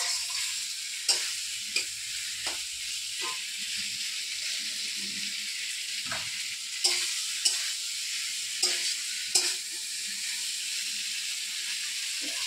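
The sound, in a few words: sautéing spice paste with vegetables in a pan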